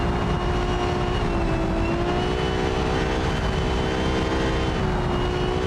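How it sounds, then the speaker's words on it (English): Formula Three race cars at Belgian Grand Prix practice, a continuous loud engine drone with a steady high whine that shifts slightly in pitch as they pass, no speech. "The sound of these cars is something you never hate to hear."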